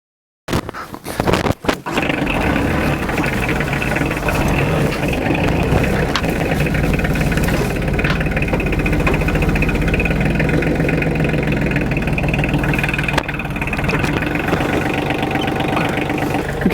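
A tractor engine runs steadily at a low idle while backing up to hitch a box scraper, a continuous mid-low chugging rumble held close and loud throughout, with a few sharp knocks at the start.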